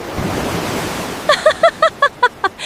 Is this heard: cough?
no